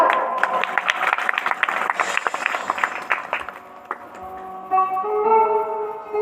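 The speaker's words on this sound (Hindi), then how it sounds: "बजा दो ताली भैया।" Audience clapping at a Bhagavat Katha recitation in a village, rhythmic and fairly loud for several seconds, then giving way to steady music tones near the end.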